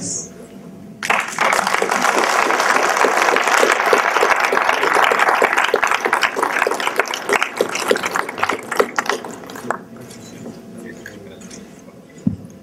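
An audience at a book presentation in the Palacio Legislativo de San Lázaro applauds, a dense burst of clapping that swells after a quiet opening, then thins and fades into sparse claps and room noise.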